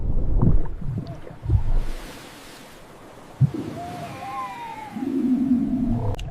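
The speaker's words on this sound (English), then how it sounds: "Giant gray ocean whale." Whale calls in an ocean setting for a children's sea-animal lesson, low moaning tones and rising whistles over a wash of water and wind noise, with a few thumps.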